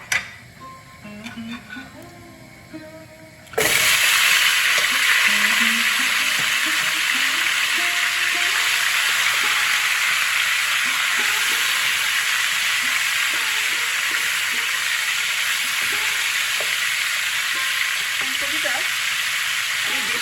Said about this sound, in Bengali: আমি ফুলকপিটা ভাজার জন্য দিয়ে দেবো